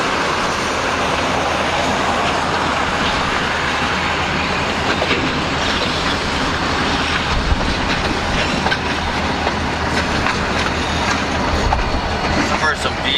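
A freight train with several locomotives and gondola cars rolls past close by, a loud continuous rumble with wheel clatter and occasional squeal sustained throughout, no talking over it.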